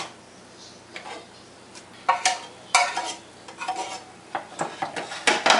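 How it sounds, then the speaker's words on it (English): Ground beef spread into a flat layer in a pan, scraped and pressed with a utensil in a series of scattered clinks and scrapes that grow quicker toward the end, close and fairly quiet, with no talk. "I'm going to make a nice flat layer of the beef there"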